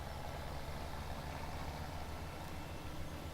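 Tractor engine in Farming Simulator 2017 idles with a steady, low, rumbling drone that holds an even level and never revs or changes pitch.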